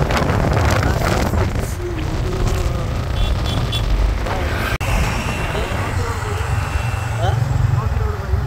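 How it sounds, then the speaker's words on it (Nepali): Strong wind buffets the microphone outdoors on a motorbike trip, a continuous low rumbling roar with gusty swells throughout, with a voice partly audible beneath it. "हावा चल्दैछ"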